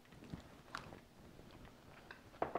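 Quiet close-up chewing of ghost pepper mac and cheese casserole, with a few soft, scattered bites and mouth sounds and no talking.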